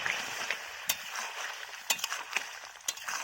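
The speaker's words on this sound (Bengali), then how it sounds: "ভালো করে নাড়াচাড়া করে নিচ্ছি" A cauliflower and potato curry is stirred after garam masala paste is added, giving a faint steady sizzle broken by a few sharp spoon scrapes and clinks against the pan.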